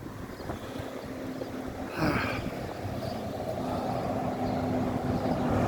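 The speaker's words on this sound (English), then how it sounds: "the wind started kicking in and there's some dark clouds" Wind gusts outdoors as dark clouds roll in, a steady rushing roar with microphone buffeting that swells briefly, with no voices.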